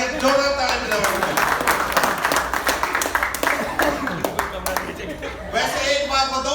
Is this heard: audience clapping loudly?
yes